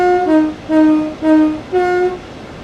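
A train horn in Train Sim World 3 gives four long tonal blasts in a steady, evenly spaced rhythm, loud and close, with no talking.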